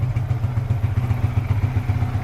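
Yamaha FZ150i motorcycle engine idling steadily just after an engine oil change, a close, continuous low throbbing hum with a light mechanical clatter and no speech.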